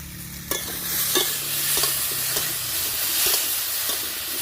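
A homestyle curry of elephant foot yam and bata fish fries in a little oil in a pan as it is stirred, giving a close, continuous sizzle with scraping and a metallic clank near the start.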